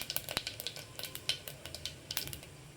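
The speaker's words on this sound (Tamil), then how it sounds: "இது கூடயே கொஞ்சம் சோம்பு போட்டுக்கங்க சோம்பு பொறிட்டோம்" Fennel seeds fry in hot oil in a pan alongside cloves, giving faint crackles and small sharp pops with light clicks of stirring. The sound is quiet and close, with no voices.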